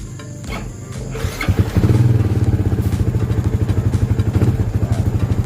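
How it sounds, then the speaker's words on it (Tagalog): A Yamaha R15 V2 motorcycle engine cranks with a few clattering thuds, then catches and settles into a steady, close idle with a rapid pulsing rumble. "So, papanda rin pa natin yung motor."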